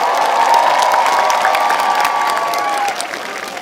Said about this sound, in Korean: 우리 상희한 MB크루에게 박수 보내주세요.